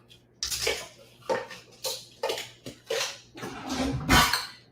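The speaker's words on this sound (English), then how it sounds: "Grab my measuring cups, my measuring spoons rather." Measuring spoons clink and rattle against each other and a bowl in a home kitchen, a series of about seven irregular metallic jingles, close and fairly quiet, with no talking.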